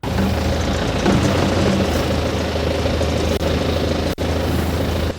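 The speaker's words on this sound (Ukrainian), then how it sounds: "працює в нас техніка, є машина, є трактор" Engines of a truck and a tractor working during rubbish cleanup at a military town, a steady low rumble of idling machinery, close and continuous throughout with no talk.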